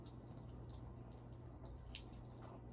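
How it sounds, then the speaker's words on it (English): Water leaks from the bottom of a water blaster toy and trickles and drips steadily onto the floor at low volume, a soft continuous splashing with a few distinct drops standing out. "I just leaked a lot of water through the bottom of the blaster onto my floor."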